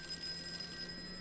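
A telephone rings in the Call of Cthulhu video game, a short, faint steady bell tone with no talk over it.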